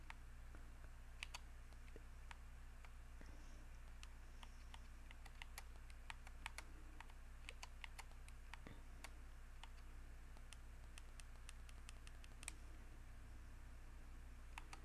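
Keys on a computer keyboard clack in irregular bursts of sharp, faint taps over a low steady hum, typed during a first-time livestream with no voices.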